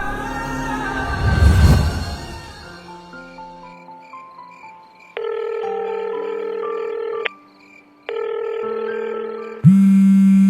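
A telephone sounds with a burst of noise at first, then steady electronic tones and beeps that start and stop in blocks, ending in a loud sustained buzz, with no one talking.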